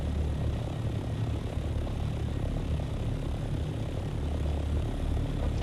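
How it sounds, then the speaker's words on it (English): Ornithopter flying in the Dune video game, a steady whirring engine drone with a low rotor-like rumble, constant and close for the whole stretch with no talking. "we're flying an ornithopter, and it's almost a gnomish helicopter, gyrocopter"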